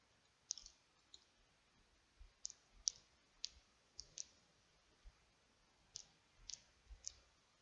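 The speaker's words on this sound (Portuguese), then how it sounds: "Eu fico clicando sem querer no botão e saio da página." Mouse button clicks, about a dozen sharp, faint single and double clicks spaced irregularly in a quiet room, with no talking.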